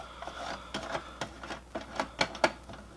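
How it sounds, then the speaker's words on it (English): Tiny Phillips screws come out of an Xbox disc drive, with close, light clicks, taps and small scrapes in an uneven rhythm. "So we need to remove these two Phillips screws."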